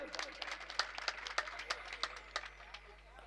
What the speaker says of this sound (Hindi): बार ताली मार दीजिए भाई साहब।